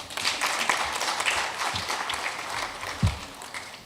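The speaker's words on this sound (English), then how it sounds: "A round of applause, please." Audience applause at a presentation on national demographic and health survey results, a steady crowd clapping for about four seconds with a few louder individual claps near the end.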